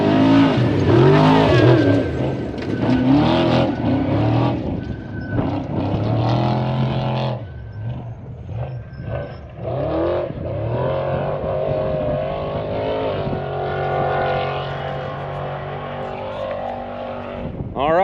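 An off-road race truck roars past during the Vegas to Reno desert race, its loud engine rising and falling as it speeds by, while people talk over it throughout.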